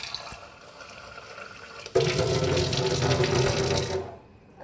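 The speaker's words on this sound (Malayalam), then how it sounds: "അപ്പം മിക്സിയുടെ ജാറൊക്കെ ഒന്ന് കഴുകി ഒഴിക്കുകയാണ്." Tap water runs into and rinses a mixer grinder jar in a home kitchen, a steady splashing gush that grows louder midway and then cuts off.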